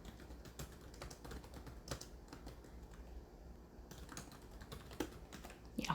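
A computer keyboard is typed on while text is entered into an Excel spreadsheet, giving quiet, irregular clicks and taps in short bursts with small gaps, and a couple of sharper keystrokes near the end.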